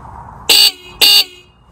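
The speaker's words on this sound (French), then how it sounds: "le klaxon," Horn of a KAABO Wolf King 72-volt electric scooter, two short, loud, bright beeps in quick succession, close and alone.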